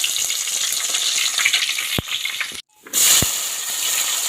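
Fennel seeds and garam masala frying in a little oil in a pan on the stove for mutton chops gravy, a steady close sizzle with a brief drop and then a louder hiss as the spices hit, no talking.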